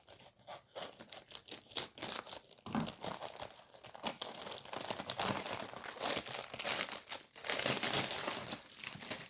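A package being torn open up close, with loud crinkling and ripping bursts that continue in uneven waves for several seconds, no voices.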